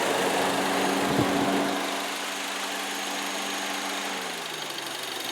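A 2013 Mazda5 engine idling with the hood open, a steady low hum with a faint ticking texture, one brief louder bump early on before it settles to an even, quieter drone.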